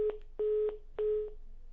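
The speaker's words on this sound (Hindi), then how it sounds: "फोन डिस्कनेक्ट हो गया है" Three bursts of a steady electronic telephone tone, short beep then two longer ones, crisp and close on a quiet line after a call drops.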